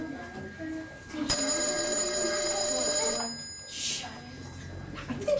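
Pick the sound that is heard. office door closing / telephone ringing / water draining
telephone ringing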